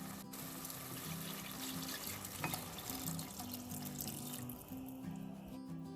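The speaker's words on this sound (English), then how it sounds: "After sauteing for a minute, we are going to add water." Water pours steadily into a pot of sautéed biryani base, a quiet, continuous splashing gush heard up close.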